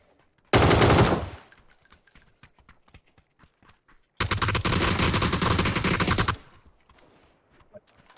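Two loud bursts of automatic gunfire from an enemy shooting at a squad in PUBG, a short volley followed by a longer sustained stream, with scattered faint shots and clicks between them.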